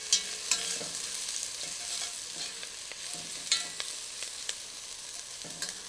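Garlic sizzles softly in melted butter in a pan, a steady frying hiss with occasional stirring clicks and spatters, no talk.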